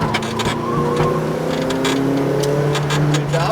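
A McLaren GT4 race car engine pulls hard on throttle through a left-hand bend at Speed Vegas, its strong rising harmonic drone steady and close throughout, with no talking.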